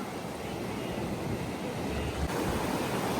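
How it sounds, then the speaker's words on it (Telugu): Sea waves wash onto the seashore as the tide recedes, making a steady, full roar of surf mixed with wind buffeting, with a slight swell near the end. "ఇప్పుడు డే కొంచెం అయిన కొద్దీ ఈ సముద్రం అనేది వెనకపోతుంది"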